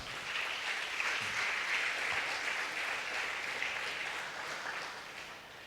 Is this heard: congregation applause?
yes